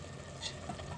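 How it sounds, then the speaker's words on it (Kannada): Rice is stirred with masala in a pan, a faint, brief scrape and soft sizzle, quiet and close, with no talking. "ಈ ಅಕ್ಕಿನ ಸ್ವಲ್ಪ ಮಸಾಲೆ ಜೊತೆಗೆ 2 ನಿಮಿಷ ಮಿಕ್ಸಪ್ ಮಾಡ್ಕೋಬೇಕು."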